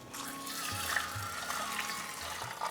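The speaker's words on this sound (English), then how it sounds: "I'm going to add 1 liter of boiling water to this." Boiling water pours steadily into a pot of pearl barley with a soft, continuous splashing trickle, fairly quiet and close, with no voices.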